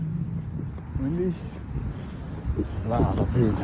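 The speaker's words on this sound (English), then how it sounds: "Windy." Gusty wind buffets a microphone carried by a runner outdoors on a morning run, a loud low rumble with brief voice-like sounds mixed in.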